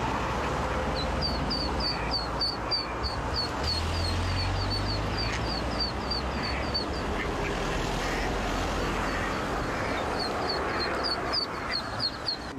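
A mother duck quacks over and over in quick bright bursts, crossing busy dual-carriageway traffic from the Hron river with her ducklings, her calls riding above a steady roar of passing cars and a low rumble.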